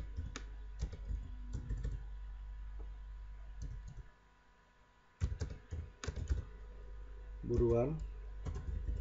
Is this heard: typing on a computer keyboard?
yes